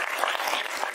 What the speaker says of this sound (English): So let's clap hands for this.